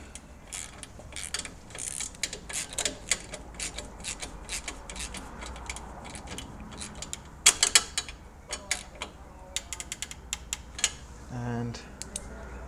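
Starter motor bolt on a Suzuki DR650 motorcycle tightened with a ratchet, bursts of quick metallic clicks and clatter of tools close by, pausing between strokes, with a brief low voice near the end.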